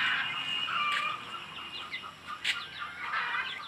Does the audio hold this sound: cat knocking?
no